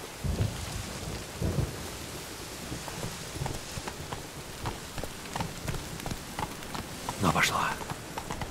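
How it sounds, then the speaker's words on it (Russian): Thunderstorm in The Witcher 3: steady rain hiss with repeated rumbling thunder claps, one louder crack near the end, continuous throughout. "Гроза, мать ее."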